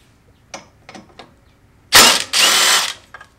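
A nut and bolt come off a Jeep JL suspension during a lift install: a few light ratcheting clicks, then two loud bursts of a power tool spinning close up, followed by a faint click.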